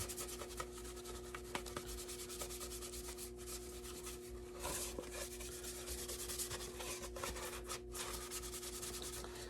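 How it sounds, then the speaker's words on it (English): Continuous rubbing and scrubbing as acrylic wash grime is worked into prop armor, a steady close dry friction with no talking. "Let's rub our New grime in there."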